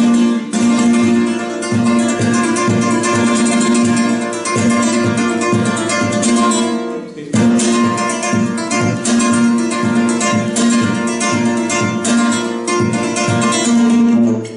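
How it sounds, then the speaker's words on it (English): Flamenco guitar played with golpe taps from the middle and ring fingertips, rhythmic percussive knocks mixed with strummed chords, loud and close, repeating in a steady pattern across two similar phrases. "Then we have the same tapping with middle ring finger flesh,"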